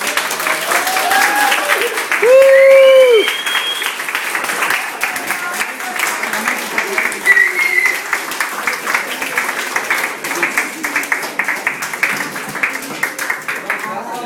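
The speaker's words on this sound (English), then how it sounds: "Give her a big round of applause" A room of people at a farewell party gives Olive a big round of applause, steady clapping carrying through with cheers and a few excited voices rising over it.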